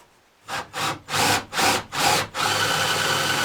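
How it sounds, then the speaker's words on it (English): A power drill with a 5/8 countersinking bit bores four holes during a Sprinter van build. It sounds like five short, loud whirring bursts, ending in one longer steady grind. "I'm using a 5/8 countersinking bit here, and I'm just gonna pop out 4 holes where I'm gonna screw in here"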